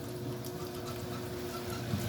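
A Haier HLP21N washing machine drains water with a steady low gurgling rush and a faint pump hum, quiet and even throughout.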